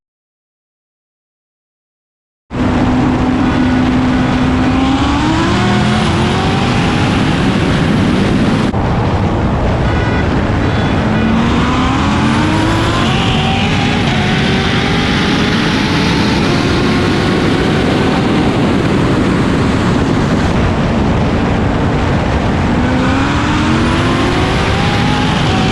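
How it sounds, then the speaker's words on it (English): A Chevrolet Camaro racing a Dodge Challenger, a loud, continuous engine roar with rising revs and gear changes sweeping upward, heard after a brief silence and without talk. "we're gonna do Camaro versus Challenger"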